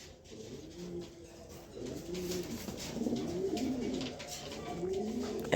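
A pair of pigeons cooing close by in a cage, repeated low rolling coos rising and falling over a faint background hiss, with no talk.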